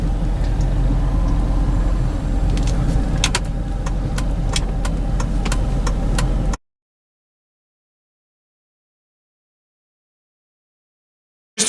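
A 2006 Hummer H2 SUT's engine rumbles steadily and close as it pulls away, with light clicks and rattles on top, then cuts to silence.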